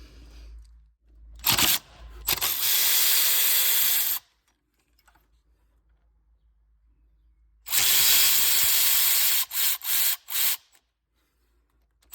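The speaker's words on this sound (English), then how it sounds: "our next step is to take out the two 10mm bolts, and we'll pull this pump out" A power tool removing two 10mm bolts from the high-pressure fuel pump on a 2010-2017 Chevy Equinox 2.4 L, running in two loud whirring bursts with brief clicks and a long quiet gap between them.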